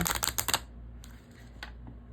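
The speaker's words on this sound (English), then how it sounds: "So you kind of almost have to shuffle them face up in order to get that" Cards from The Illustrated Herbiary deck are shuffled in quick crisp bursts, a rapid flurry of riffling clicks followed by a few softer taps, close and alone.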